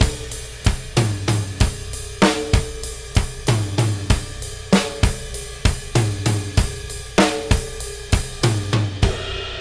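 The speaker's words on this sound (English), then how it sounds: "and it sounds like this, and you're on the ride cymbal." Country drum groove with a steady ride cymbal pattern over punchy kick and snare backbeats, tight and evenly spaced, loud and close with no talking.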